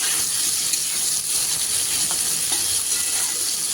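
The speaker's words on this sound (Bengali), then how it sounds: "এবার বেগুনগুলো ভেজে নেব। বেগুনগুলো কিন্তু খুব ভালোভাবে ভেজে নিতে হবে।" Eggplant slices rubbed with turmeric, chilli, salt and a pinch of sugar fry in hot oil, giving a loud, dense, continuous sizzle that holds level throughout with faint crackles.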